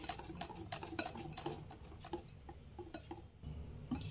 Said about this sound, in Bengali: এবার 6 থেকে 7 মিনিট অনবরত এইভাবে বেসনটাকে একটু ফেটিয়ে নিতে হবে